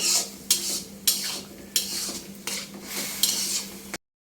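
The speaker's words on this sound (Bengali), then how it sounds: "এবার আমি এভাবে কষাবো" Spiced pangas fish curry being stir-fried in a pan, with a steady sizzle broken by about seven sharp scrapes and clinks of a spatula against the metal, close and fairly loud, no voices.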